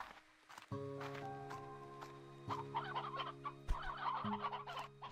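Chickens cluck in the video game Slime Rancher 2, a steady run of close, chattering fowl calls over a faint background drone, with no talk.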